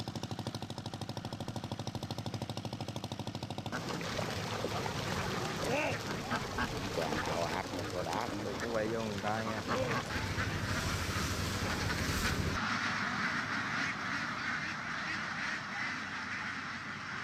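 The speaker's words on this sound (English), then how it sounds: "the ducks waddle back to their coops, almost down to the exact minute," Ducks on a duck farm quack loudly and continuously in a dense, overlapping chorus of many birds close by, with a quieter stretch at the start and another after the busiest part.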